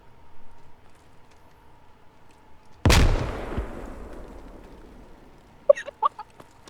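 A frag grenade detonates in a military shooter game: a single loud, sharp blast around the middle, trailing into a long rumbling decay, followed by a few brief clicks and taps near the end.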